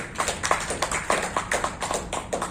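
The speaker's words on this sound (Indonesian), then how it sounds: "Tepuk tangan untuk beliau" Applause at a community gathering honoring the Kebuminan village secretary, a brisk run of hand claps with a steady uneven rhythm, moderately loud and close, with no talk over it.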